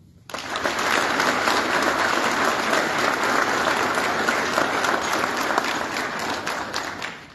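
Sustained audience applause for military police veterans at an anniversary celebration of the 72nd Military Police Battalion in Split, a dense, steady wash of clapping from a large crowd that starts abruptly and holds evenly before tapering slightly at the end.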